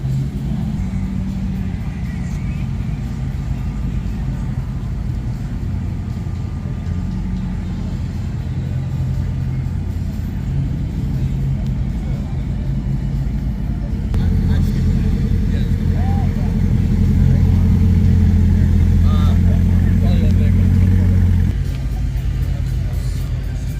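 Several Corvettes idle and rumble while lining up at a Lone Star Corvettes cars-and-coffee meet, a steady low engine drone that swells louder midway, with someone talking over it throughout.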